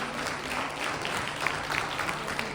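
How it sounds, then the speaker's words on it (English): Faint, distant applause from an audience thanking a presenter after an informative session on autologous DNA therapy, a soft, even patter of clapping with no talk over it. "Let's give a round of applause, please."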